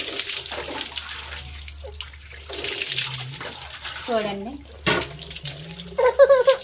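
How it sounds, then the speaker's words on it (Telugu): Water pours over a baby during a bath, a steady splashing rush over the first few seconds, then lighter trickles and drips, with a voice talking over it. "ఇప్పుడు వాటర్ పోస్తున్నాను బాబుకి"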